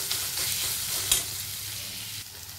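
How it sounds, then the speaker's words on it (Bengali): Chicken mince fries in a hot pan, browning with a steady close sizzle and stirring scrapes, one brief louder burst midway, no talk. "ভালো করে লাল করে ভেজে নেব।"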